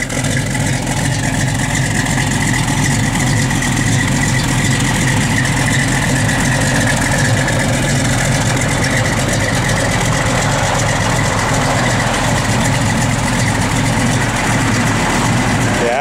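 A 1970 Dodge Challenger SE with its matching-numbers engine idles steadily and loudly up close, a continuous low rumble with no talk over it.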